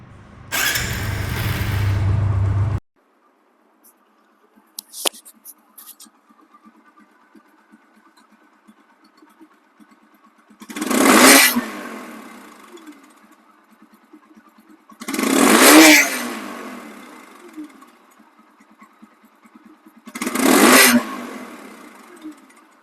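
A second-hand TVS Apache RTR 160 motorcycle in showroom condition runs briefly and then cuts off; after a quiet gap, three separate throttle revs rise and fall, loud and close.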